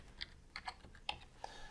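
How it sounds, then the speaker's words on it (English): Soft, irregular keystrokes tap on a computer keyboard, a handful of quiet clicks spaced unevenly, close but faint against a low background hiss. "So I start typing in nifedipine"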